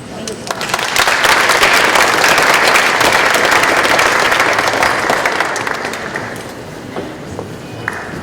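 A loud burst of audience applause at a talk on building a local food economy swells within the first second, stays full and busy for several seconds, then thins toward the close.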